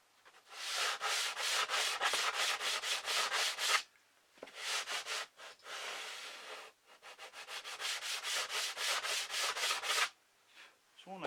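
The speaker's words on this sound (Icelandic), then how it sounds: "pússa þetta svona." A wooden model aircraft wing is hand sanded in quick, rhythmic back-and-forth strokes, close and clear, in three bursts broken by brief pauses, with no talking.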